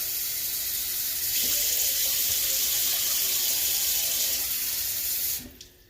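Water poured from a tap into a pan for lemon meringue pie filling, a steady rushing stream lasting several seconds before it cuts off abruptly, with a few faint clinks in the kitchen.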